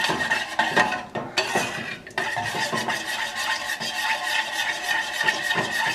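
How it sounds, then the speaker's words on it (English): A spoon or whisk stirs melted chocolate truffle mixture in a bowl, producing continuous close scraping and clinking against the bowl at moderate volume, with no talking. "Just give it a nice stir till it comes together"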